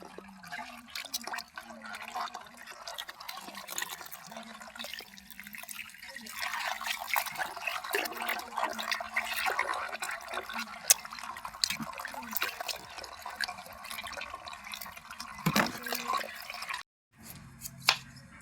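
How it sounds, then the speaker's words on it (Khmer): Bamboo shoots being washed and scrubbed in water for boiling, with steady dripping, trickling and splashing throughout, close by, and a brief pause near the end. "យើងត្រូវលាងដុសអែលវាស្អាតឲ្យសស្គូស"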